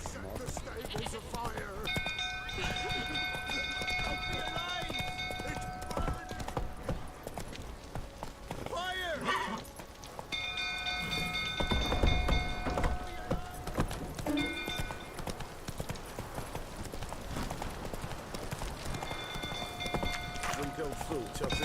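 The horse Roach gallops in The Witcher 3 with rapid, continuous clip-clop hoofbeats. Game music plays alongside, and voices speak intermittently over the hooves.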